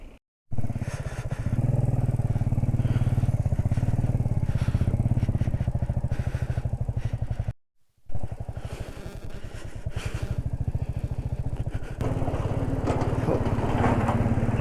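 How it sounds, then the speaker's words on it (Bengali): A heavy Royal Enfield motorcycle loaded with luggage on a touring ride runs with a steady, close engine drone, cutting out briefly midway before continuing. "রয়্যাল এনফিল্ড একটা বিশাল ভারী বাইক"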